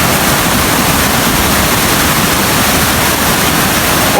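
Storm rainwater rushes through a drain channel in a loud, unbroken roar of broadband turbulent noise that stays steady and close throughout.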